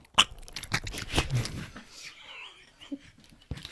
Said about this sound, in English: Put them in your mouth and make them sound like this.